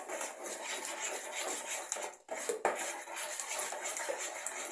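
Pie dough ingredients including sugar are stirred together in a bowl, a close, steady scraping rustle with a brief pause and a light clank in the middle.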